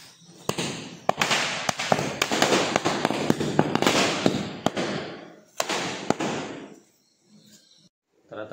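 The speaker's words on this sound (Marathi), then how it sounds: "फटाके लावूया म्हणजे सगळे बघा." Diwali firecrackers going off in a rapid run of sharp cracks and bangs over a dense crackling wash for about seven seconds, then a sudden near-silence before another burst begins.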